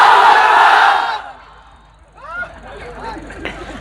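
A crowd at an Islamic sermon gathering shouting a loud, massed chant in unison that fades after about a second, followed by a single voice speaking.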